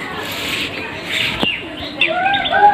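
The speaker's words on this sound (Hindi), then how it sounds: "देखिए ऊपर वाले छत पे कितना कबूतर सब है।" Soft cooing from pigeons on a rooftop mixed with light bird chirps outdoors, fairly faint, with a few brighter calls toward the end.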